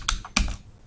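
Computer keyboard keys tapped while typing C code, two quick clusters of close, crisp key clicks with no talking.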